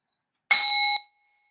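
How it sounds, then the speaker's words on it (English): A single bright bell strike opening a meditation rings out clearly, its tone sustaining briefly before fading to silence. "Here we go at the sound of the bell."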